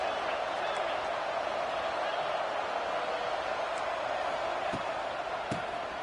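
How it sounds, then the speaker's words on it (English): The stadium crowd at a BYU vs USC college football game sends up a dense, steady roar that holds level throughout, with a few faint sharp knocks breaking through. "this crowd is fired up. Listen to this noise here."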